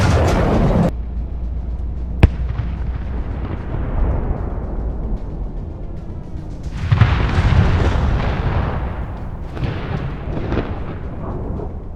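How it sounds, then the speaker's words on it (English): Explosions and heavy fire strike a Russian armored column during an assault: a sharp blast near the start, then rolling booms and rumbling detonations that swell again around the middle, loud and reverberant with no talk. "they come under intense fire"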